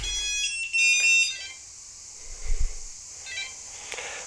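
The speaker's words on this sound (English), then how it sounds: "We can hear this beep" A few short, high-pitched electronic beeps from an Eachine X220S drone's radio receiver binding sound close by in a quiet room, followed by a soft thump and a faint later beep.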